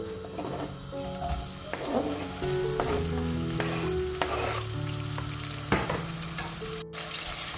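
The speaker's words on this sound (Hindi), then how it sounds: "ऑयल के गर्म होने का हम वेट करेंगे और उसमें हम फिर शामिल करेंगे वो 2 प्याज़ें" Two onions frying in hot oil for a deghi-style chicken korma give a loud, close, continuous crackling sizzle, broken by stirring scrapes and utensil knocks, with no speech.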